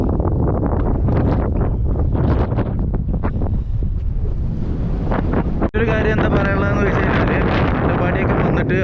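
Strong, cold wind roars and buffets the microphone continuously at a windmill site in Attappadi, a loud, rushing blast with gusty surges, as a person talks through it.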